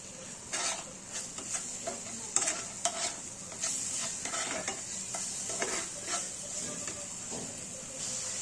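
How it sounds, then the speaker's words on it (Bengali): Turmeric and Kashmiri chilli powder frying in oil while being stirred, a soft sizzle under repeated close scraping strokes of a spatula against the pan in an uneven rhythm. "এইভাবে এখানে আমরা মশলাটা 1 থেকে 2 মিনিটের মতন কষিয়ে নেব, যাতে কাঁচা গন্ধটা না থাকে"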